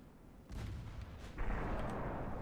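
Naval gunfire from warships sinking a cruiser in Ultimate Admiral: Dreadnoughts, heard as two heavy booming blasts a second apart, the second louder and followed by a sustained rumbling roar, with no talking.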